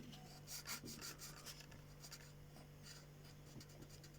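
A pen or pencil scratches and rubs faintly across paper while an electric circuit diagram is drawn, with short irregular strokes over a steady low hum.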